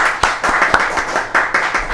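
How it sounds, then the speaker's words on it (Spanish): Scattered clapping from a small group fills a short stretch, with distinct sharp hand claps popping out at an uneven rhythm over a faint crowd murmur. "merece un aplauso ella"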